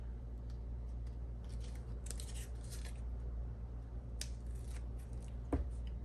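Scissors snip through cake topper material while a shaker cake topper is being assembled, a few soft, close cuts over a steady low background hum.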